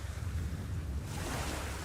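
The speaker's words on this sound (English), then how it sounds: "The ship sails into a bad storm, and Sinbad lands in the sea" Ocean waves rolling and crashing during a storm at sea, a steady loud roar of surf mixed with wind buffeting, with no voices.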